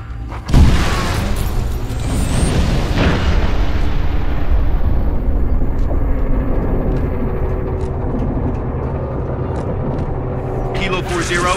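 Artillery barrage in Halo: Reach, one heavy boom that opens into a long rumbling roll of explosions, with further distant blasts and crackles trailing off, and voices talking over the din.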